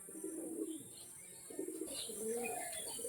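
Paired pigeons coo softly in low, rounded murmurs, faint and fairly close, over a constant background hiss with no one speaking.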